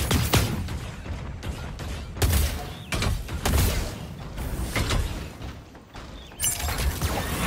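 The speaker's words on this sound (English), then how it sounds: "I hear gunfire." Bursts of rapid gunfire in the mobile game Super Mecha Champions crackle in repeated volleys, loud and close, with brief gaps between the barrages and no voices.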